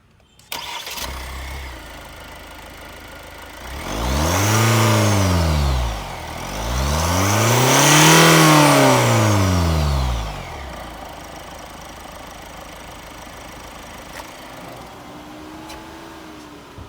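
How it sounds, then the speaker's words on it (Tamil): A Kia Carnival's diesel engine cranks and starts, then revs up twice in long rising-and-falling sweeps before settling back to a steady idle. "நான் உங்களுக்கு இன்ஜினோட சவுண்டை ஸ்டார்ட் பண்ணி காமிக்கிறேன்."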